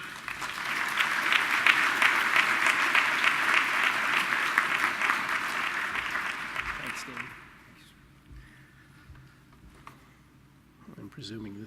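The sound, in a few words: audience applause welcoming keynote speaker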